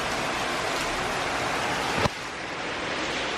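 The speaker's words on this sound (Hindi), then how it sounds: "ये देखिए कितनी प्यारी बारिश हो रही है" Rain falling steadily, a dense even hiss close by with a single sharp tap partway through, no voices.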